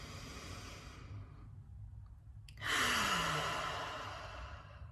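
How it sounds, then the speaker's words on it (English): A slow, deep breath during guided meditation: a long soft exhale fades to near silence, then a sudden breathy inhale swells close to the microphone and tapers off gently. "And we take another deep breath."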